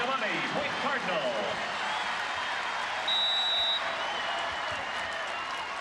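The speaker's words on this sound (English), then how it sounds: "The home crowd here in Omaha trying to stir things up for the Huskers" Home crowd at an NCAA volleyball championship match in Omaha, Nebraska versus Stanford in 2006, a steady roar of cheering and applause filling the arena throughout, with an announcer talking over it.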